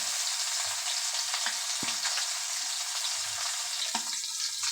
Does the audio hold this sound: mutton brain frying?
yes